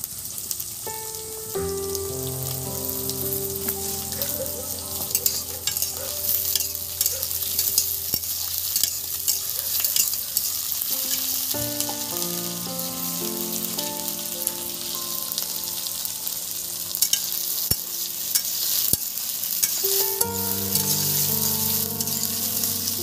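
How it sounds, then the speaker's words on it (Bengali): Chopped potatoes and onion fry in a pan for a bitter gourd curry, a steady close sizzle with occasional stirring scrapes running throughout, loud and continuous, with background music tones and no talk. "এবার দিয়ে দিচ্ছি কেটে রাখা আলু।"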